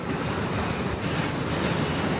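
A CPKC freight train rolls past nearby, a loud continuous rumble with rail clatter and faint wheel noise, no voices.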